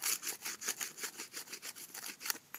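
Wood being sanded to shape by hand for bushcraft fire by friction, a steady back-and-forth rasping rub in even strokes, close and alone without talk.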